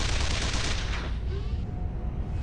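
Quad guns fire in the Carrier Command: Gaea Mission video game as a loud, close burst of rapid gunfire that fades into a rumbling tail.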